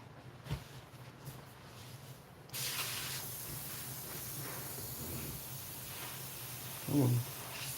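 An airbrush with its air valve stuck down lets out a continuous steady hiss that starts abruptly and runs on without pause, with a brief louder burst of air near the end.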